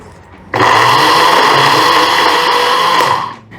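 Kitchen blender whirring steadily for about three seconds as it blends milk with cardamom and a pinch of saffron, starting abruptly, loud and close, then winding down.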